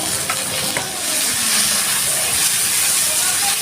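Chopped tomato sizzles in hot oil in a pan for a Bengali malabar spinach and prawn dish, a steady close frying hiss with faint stirring scrapes and no talking.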